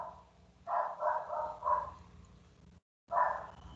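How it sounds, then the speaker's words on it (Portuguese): Several street dogs bark at a moderate distance, a quick cluster followed by a pause and then another bark, over a low background hum. "esses cachorros na rua. Todo dia eles atrapalham"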